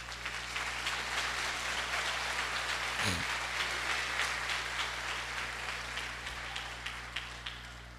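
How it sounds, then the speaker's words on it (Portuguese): A church congregation applauds in a dense, steady wash of clapping that holds at an even level throughout, with a low hum underneath. "Você pode dar um aplauso para o Senhor?"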